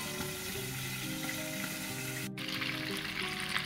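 Stuffed chicken sizzles steadily in a pan, a close, continuous frying hiss with faint stirring and clinks, briefly interrupted once.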